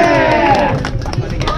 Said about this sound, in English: Can we have a clap for Pace, because they paid for all our goodies today?